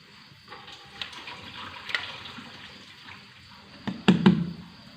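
Water draining off soaked lentils for shami kabab, a faint trickle that rises into a closer, louder splash and pour near the end, with small knocks earlier on.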